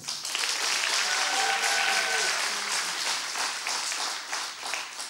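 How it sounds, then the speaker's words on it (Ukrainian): Audience applause at a comedy show, steady dense clapping that fills the whole stretch at a constant level, with a few faint voices and cheers briefly rising inside the crowd noise. "Ваші оплески."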